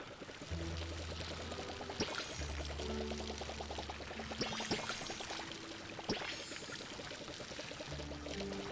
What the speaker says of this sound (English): We want to water our crops today.